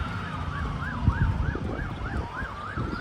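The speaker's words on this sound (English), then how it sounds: "Here's sirens coming this way." Emergency vehicle sirens wail in a fast, repeating up-and-down pattern, coming closer through wind rumble on the street outside during an FBI raid in Defiance, Ohio.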